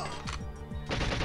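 Rapid automatic fire from the ZMG submachine gun in GoldenEye 007, a quick burst of close, loud shots in the first half, then a denser roar of gunfire and noise.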